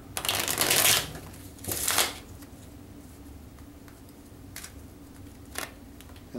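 A deck of playing cards is shuffled in two brisk, crisp riffles close by, followed by a few softer flicks and taps of the cards being handled.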